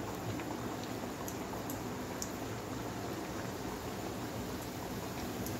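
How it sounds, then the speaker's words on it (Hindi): Hot oil bubbling steadily in a kadai, ready for frying veg puffs, a soft even hiss of fine bubbles with a few faint pops, close and low. "देखो बबल्स बाहरुची माने तेल ऑलरेडी मोर गरम हो गलानी"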